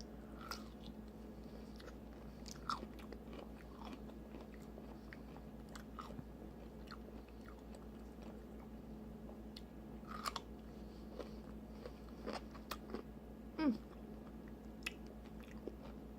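A big sour concession-stand pickle being bitten and chewed up close, with soft wet crunches and squishy chewing sounds over a quiet room hum, no talking.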